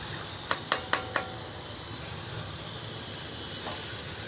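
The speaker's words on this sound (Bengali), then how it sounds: "এই যে বন্ধুরা মাংসটা কষা হয়ে গেছে এবার এটাতে দিয়ে দেবো আলু" Potato pieces drop into a pan of braised chicken curry being cooked on a truck stop, making four quick, sharp knocks in a row and then one more a few seconds later, over a steady fan-like hum.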